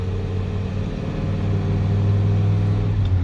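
A V10 truck engine running on woodgas accelerates in first gear, a steady, loud, close drone with strong low harmonics that holds throughout with no voices.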